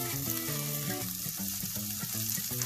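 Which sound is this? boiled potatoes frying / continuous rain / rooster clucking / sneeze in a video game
boiled potatoes frying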